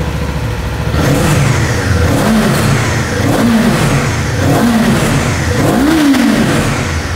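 A loud Kawasaki Eliminator 500 twin-cylinder motorcycle engine revs repeatedly, the pitch climbing and falling in several surges over a steady rumbling idle, close up.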